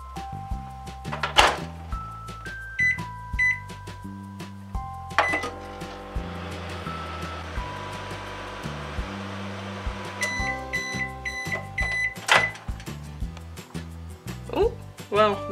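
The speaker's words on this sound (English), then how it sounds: "it says here you have to microwave it for 40 seconds if it's 500 watts" A microwave oven hums while heating a Popin' Cookin' takoyaki candy kit, with steady droning, beeps and clunks of the door, and a person talking over it.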